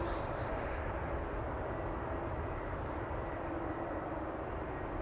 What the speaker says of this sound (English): That's use of reversers.